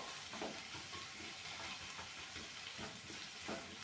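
Onions sautéing with crushed ginger and garlic in a pan, a soft continuous sizzle with faint stirring scrapes, quiet and close, nobody speaking.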